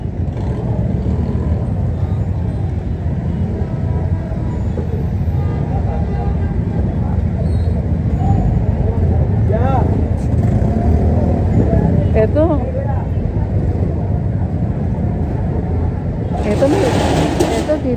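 Heavy road traffic on a Manila street, a dense, steady rumble of car engines with revving close by, continuous throughout and mixed with people talking, a brief burst of higher-pitched noise near the end.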